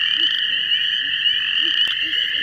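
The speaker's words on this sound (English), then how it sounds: "Do you all hear the one frog going?" A frog calls steadily in a continuous high trilling chorus, loud and close, with faint low croaks pulsing underneath and a brief click near the end.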